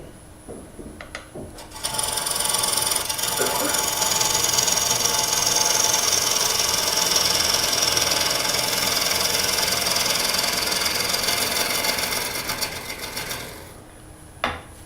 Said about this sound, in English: That's a good thing about a bigger motor on, if you can get one on your lathe.